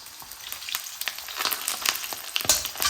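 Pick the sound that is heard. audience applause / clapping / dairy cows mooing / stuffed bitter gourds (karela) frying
stuffed bitter gourds (karela) frying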